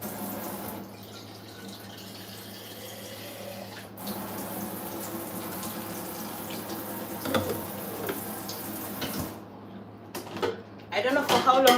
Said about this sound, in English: Maybe I need to add some water.